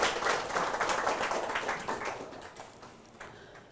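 An audience claps to welcome a speaker at a rice-farming talk, a dense patter of many hands that starts loud and slowly fades away.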